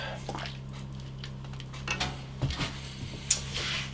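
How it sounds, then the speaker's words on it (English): Food is stirred in a kitchen pot, with faint scrapes and a few light metallic clinks of the spoon against the sides, plus a low steady hum underneath. "Stir that all up."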